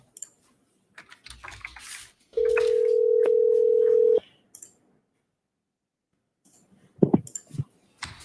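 A telephone dial tone hums steadily for about two seconds while a call is placed, framed by keyboard typing and clicks before it and a burst of handling noise afterward.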